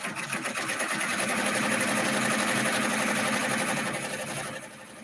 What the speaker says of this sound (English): now it's going to do the placement stitch for this.